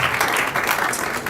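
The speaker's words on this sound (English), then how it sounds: "Another round of applause for Dr." A short burst of audience applause at a college state-of-the-college address, moderately loud and continuous, with no speech over it.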